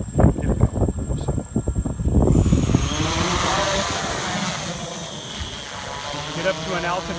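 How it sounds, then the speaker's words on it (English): A DJI S1000 multirotor drone lifts off at full throttle, its loud, steady rotor whine and buzz building and holding as it climbs, with a voice speaking over the first couple of seconds. "The technique to take off on this aircraft: throttle all the way up, full throttle."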